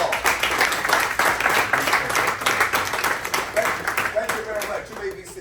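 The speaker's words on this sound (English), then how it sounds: "give yourself a round of applause." An audience at a motivational speaking event bursts into sustained applause and clapping, a dense crowd wash with some cheering and voices mixed in.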